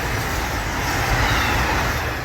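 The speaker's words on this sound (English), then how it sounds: "There's the train." A train passes close to an urban garden as a steady, loud, broad rumbling roar that holds evenly throughout, with no voices.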